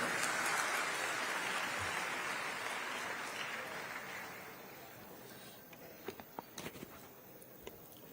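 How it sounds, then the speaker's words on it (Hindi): Audience applause welcoming the Chief Minister at a PM SHRI scheme launch ceremony in Chhattisgarh, loud dense clapping that gradually fades, leaving a few scattered claps at the end. "आप सभी जोरदार तालियों से स्वागत करें।"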